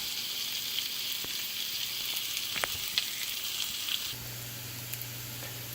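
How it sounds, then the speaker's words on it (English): Bacon, diced onion and green pepper fry in a pan, giving a steady soft sizzle with small pops and crackles, fairly faint and close, then a low hum sets in near the end. "So we'll go ahead and cook this up till the onion and green pepper gets translucent"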